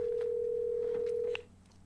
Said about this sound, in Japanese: ワリオの電話ってこんなんなの